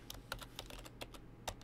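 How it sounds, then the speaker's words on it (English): Several quick keystrokes tap on a computer keyboard while entering a name into a database form, light and close, in an irregular burst with no talking. "let's type in"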